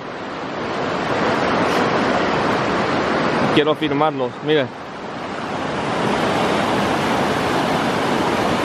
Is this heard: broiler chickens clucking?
no